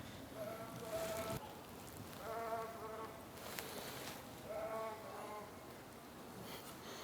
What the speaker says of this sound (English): We've got a talking sheep in the background there.